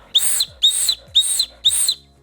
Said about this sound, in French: Et puis vous pouvez faire pareil avec un sifflet.